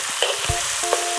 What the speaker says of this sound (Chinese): 我们那个猪肉下锅